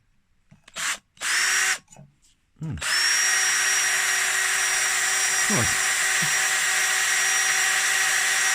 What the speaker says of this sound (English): So we're just going to try drilling a hole in it and see how tough it is.